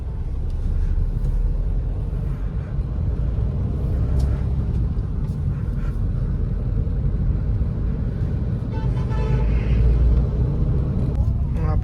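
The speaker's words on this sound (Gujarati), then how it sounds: "રાજકોટમાં ભાઈ ટ્રાફિક એટલું થઈ ગયું છે હવે તો." Dense city road traffic in Rajkot makes a continuous low rumble of passing vehicles and engines. Faint horn-like tones and scattered noises sit on top throughout.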